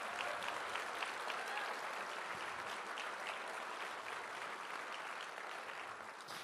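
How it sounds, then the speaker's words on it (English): An audience at a Canadian Club event applauds a political leader, steady dense clapping filling the whole stretch and fading only slightly toward the end. "One more time, round of applause for him."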